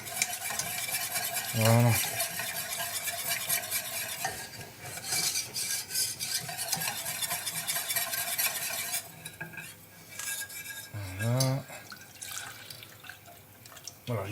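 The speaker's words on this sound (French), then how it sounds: "on vient bien mélanger, tout incorporer." Béchamel sauce being stirred in a pan after half a litre of milk is added, with steady wet scraping and sloshing throughout and a brief word spoken near the end.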